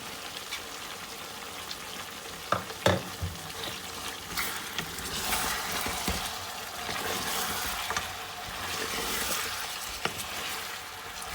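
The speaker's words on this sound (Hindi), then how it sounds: "और 5-7 मिनट के लिए इसको मज़ीद भूनेंगे।" Chicken with freshly added onions fries in a pan, giving a soft, steady sizzle with a few sharp clinks and stirring knocks; quiet overall and free of speech.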